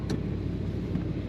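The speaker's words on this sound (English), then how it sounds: "Today we're driving a beautiful 1969 Chevrolet Corvette" A 1969 Chevrolet Corvette coupe with a 4-speed manual produces a low, steady engine rumble while driving, quiet and continuous. There are faint brief clicks and no voices.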